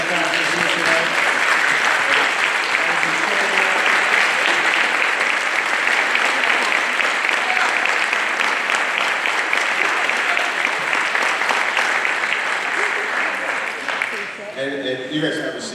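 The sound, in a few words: applause for the benefactors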